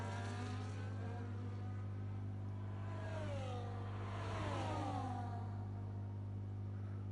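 Race cars in a racing video game accelerate down the main straight at Bahrain, several engine notes sweeping upward in pitch as they pass, fairly faint beneath a constant low electrical hum.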